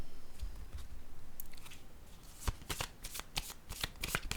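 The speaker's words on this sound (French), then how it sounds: "Je vais déposer une autre carte ici." Tarot cards handled and laid down on a table during a reading, giving soft papery shuffling and sliding with several crisp slaps and flicks in the second half, close and fairly quiet.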